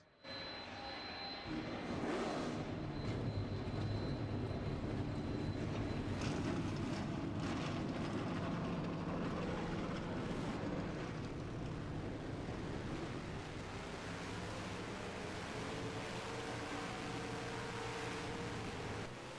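Race trucks in a Super Truck Series racing video game fire their engines at once, swelling into a steady, droning roar that holds without a break.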